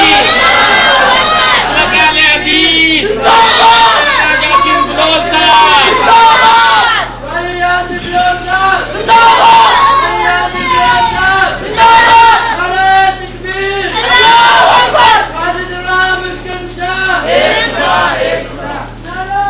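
A large religious gathering at a sermon on prayer erupts into loud, rhythmic group slogan chanting in answer to a takbir call, voices surging in repeated waves of shouting for the whole stretch, with brief dips between bursts.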